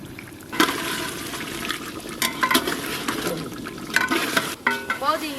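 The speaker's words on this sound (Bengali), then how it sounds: "এবার চিকেনগুলো দিয়ে দেবো। সব কিছু এবার ভালোভাবে মাখিয়ে নেব।" Spiced chicken pieces are worked together by hand in a bowl for biryani, producing continuous wet squelching and stirring with a few louder slaps and scrapes, close up and steady, with no speech.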